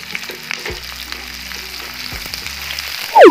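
Five medium onions, roughly chopped, drop into hot oil for a chicken stew and start frying with a steady sizzle, broken by a few scraping stirs and a louder burst near the end.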